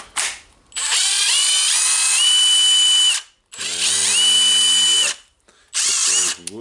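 A repaired Milwaukee M18 FMTIW2F12 cordless impact wrench, fixed for hammer casing noise, runs in three loud, close bursts of whining motor, each ramping and shifting in pitch, with short silences between and no talk.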